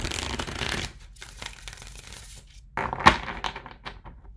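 Tarot cards are shuffled twice up close: a ruffling riffle, a quiet pause, then a second quick riffle with a snap, followed by softer handling.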